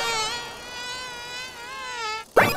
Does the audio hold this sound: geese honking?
no